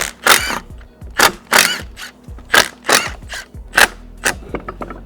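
A ratchet removes the cylinder screws on a hydraulic quick coupler, making a series of sharp, loud clicking bursts repeated about ten times in an irregular rhythm, close up with no talk.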